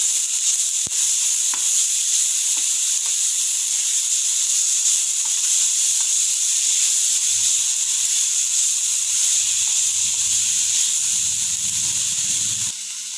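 Grated beetroot and onions hiss in a steady, loud sizzle in a frying pan, with occasional soft stirring scrapes and a few low clunks near the end.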